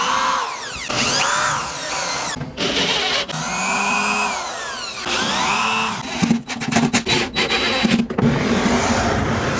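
A power drill drives short 3/8 to 3/4 inch screws into the corners of a personalized sports keepsake display, with repeated whirring bursts rising and falling in pitch, brief pauses between screws and rapid stuttering bursts near the end.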